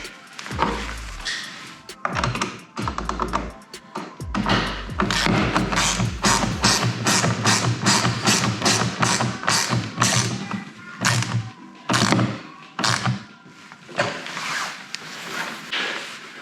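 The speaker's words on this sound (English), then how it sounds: "Now to tighten this, you can use an adjustable wrench or an 8mm socket wrench." A socket wrench tightens a small lock nut during assembly of a 24V kids' electric go-kart, with a rapid run of close, loud ratcheting clicks between a few solid thumps. No one speaks.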